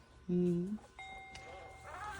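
A Moxie companion robot plays a bell-like electronic chime: a loud low two-tone note, then a thinner sustained higher tone, with quieter electronic sounds trailing after.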